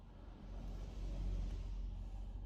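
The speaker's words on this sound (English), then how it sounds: "There's a lot of lorries coming through the town at the moment." Lorries passing through a town outside, heard indoors as a faint, low continuous rumble that swells briefly.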